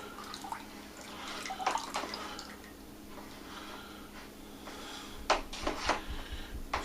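Bentonite being stirred into homemade dragon blood wine during primary fermentation, with quiet liquid swishes and drips followed by a few sharper clinks and splashes near the end, close and fairly soft.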